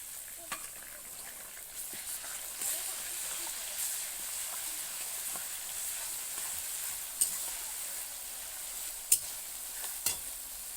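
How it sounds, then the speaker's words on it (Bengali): Onions fry in a pan before ginger-garlic paste is added, an even, close sizzling hiss throughout with occasional sharp crackles and spatters, no talking heard. "পেঁয়াজগুলো হালকা লাল লাল ভাজা হয়ে গেছে, দেখো। এবার দিয়ে দেব আদা রসুন বাটাটা।"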